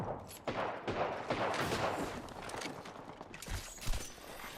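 Havoc energy rifle from Apex Legends firing in dense sustained bursts, loud and close, with a reload clack near the end and no one talking.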